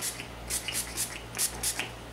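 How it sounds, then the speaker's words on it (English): Several short hissing bursts of Maybelline Master Fix Face Studio Air Boosting setting spray misted onto a face, about six quick spritzes in an uneven rhythm over a low steady hum. "I'm gonna be using the Maybelline Master Fix Face Studio Air Boosting Setting Spray."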